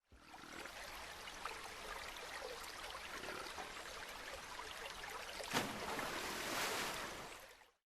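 Splashing and lapping water as an ambient cue in an Unreal Engine 5 lake scene, mimicking disturbance from fish, heard as a steady broadband wash with one sharper splash late on and no voices.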